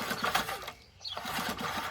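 An old Briggs engine with its spark plug removed, turned over by hand: a rapid mechanical chattering, close and fairly steady, with a brief dip in the middle.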